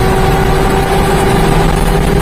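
Supercharged mini-truck engine running at about half throttle with roughly 5 pounds of boost, a steady loud drone with a constant whine and low rumble throughout, no voices.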